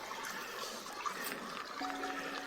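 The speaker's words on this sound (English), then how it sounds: "A running creek." A running creek along a bikepacking route, too shallow to swim in, trickling and rushing steadily at a fairly soft level with no talk over it.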